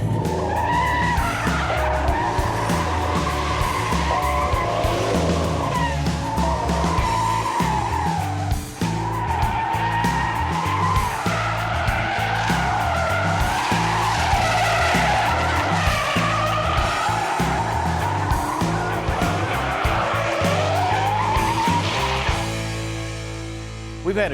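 A twin-turbo Gen III Hemi Dodge Challenger SRT8 squeals its rear tires on a racetrack, a loud sustained shriek of rubber over the roaring engine, wavering in pitch for over twenty seconds before easing off.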